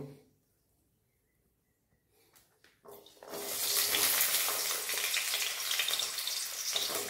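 Carrot dropped into a hot frying pan for a palak and vegetable dish: after near silence and a few light clinks, a loud steady sizzle bursts up and continues with crackling oil.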